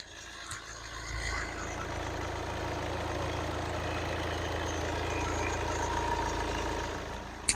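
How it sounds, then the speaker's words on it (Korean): Kia K3 compact sedan idling with the hood open: a steady, low engine hum heard up close and alone for several seconds, with a couple of brief knocks at the start and end. "엔진 소리 함께 바로 들어보도록 하겠습니다"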